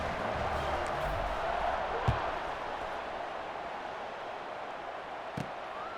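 Crowd in a college football stadium in EA Sports College Football 26, Georgia State versus Nevada, a steady distant roar at kickoff with a couple of faint thumps, under commentary.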